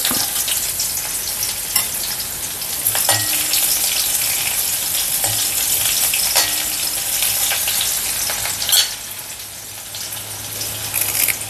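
Onions fry in hot oil for a ginger curry, giving a steady close sizzle with a few occasional stirring scrapes and clinks across the whole stretch.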